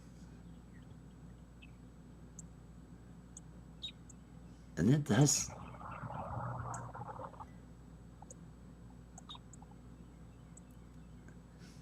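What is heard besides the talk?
bird calling outside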